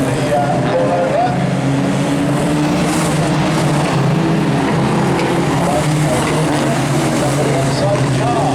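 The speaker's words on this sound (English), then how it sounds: "Heritage Formula 2 stock cars on the wing." Steady roar of several Heritage Formula 2 stock car engines droning together at a race meeting in Arlington, loud and continuous, with a commentator talking over the noise.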